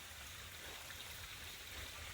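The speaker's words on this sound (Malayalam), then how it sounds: "ഇതാണ് കനാൽ വെള്ളം വരുന്നത് കേട്ടോ" Canal water rushes steadily into paddy fields, a continuous close hiss of flowing water with no pauses.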